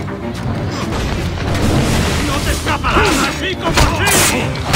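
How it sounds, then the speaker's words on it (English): Gunfire and heavy booming blasts in the Assassin's Creed 4 Black Flag video game, a dense, loud barrage of shots and thuds running throughout, mixed with game voices talking. "I wonder if they're shooting shit at me"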